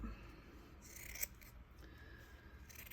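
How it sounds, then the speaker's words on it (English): Scissors cut out a mustache pattern piece for a Bucilla felt Santa stocking, giving a few soft, close snips and rustles of felt with a sharper snip near the middle, no talking. "So we're going to cut this out"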